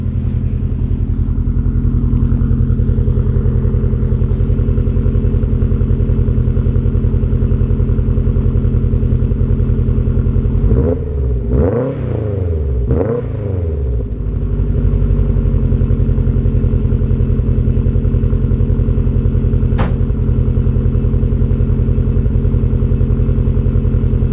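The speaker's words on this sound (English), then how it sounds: "I'll put yours at the back so you can hear the exhaust, because it does sound quite nice." Subaru Impreza GC8 with a leaking rear exhaust box and a loose, rattling bolt, heard from behind as a steady idle drone, with a brief blip of revs midway and a faint metallic rattle.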